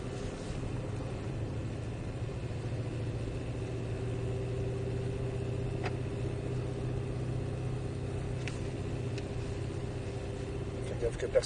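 A Shelby Ford Mustang engine idles in a steady, even low rumble that continues unbroken for the whole stretch, heard from inside the car at moderate volume with no clear speech over it.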